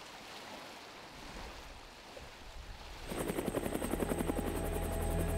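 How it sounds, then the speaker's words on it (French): A SAMU medical rescue helicopter flies in close and loud near Sainte-Musse hospital, its rapid rotor chop and whining turbine rising sharply after a softer stretch of wind and distant rumble. "L'hélicoptère du SAMU est proche de l'hôpital Sainte-Musse."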